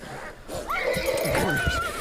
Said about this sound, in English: Oh shit, the horse.